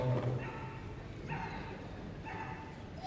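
During the Kennel Club British Open Final agility run at Crufts 2015, a dog gives three short bursts of high yelping and whimpering, evenly spaced and close, over steady arena background noise.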